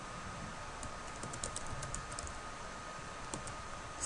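Someone types on a computer keyboard with a run of soft, quick key clicks, faint and close in a quiet room.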